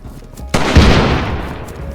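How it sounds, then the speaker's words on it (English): A single loud, heavy gunshot from a large firearm in the DayZ video game, a sharp crack with a booming tail that echoes and slowly fades. "That's a big gun, whatever that is."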